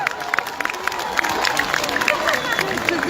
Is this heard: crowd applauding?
yes